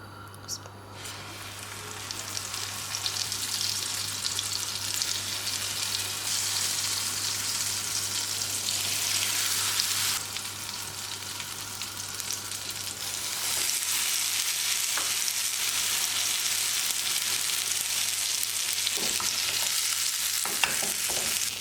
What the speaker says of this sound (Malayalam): കുബൂസ് ഓരോന്നായിട്ട് നമ്മുടെ ഈ ഒരു കൂട്ടിൽ മുക്കിയതിന് ശേഷം പാനിലേക്ക് വെച്ച് കൊടുക്കുക